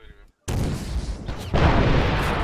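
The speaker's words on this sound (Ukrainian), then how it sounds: "Постріл, постріл, постріл." Several loud gunshot blasts in quick succession after a brief silence, close and harsh, like game gunfire in Arma 3.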